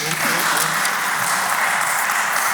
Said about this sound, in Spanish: Si empiezan a aplaudir lo de la izquierda y luego lo de la derecha, ya se lía la cuestión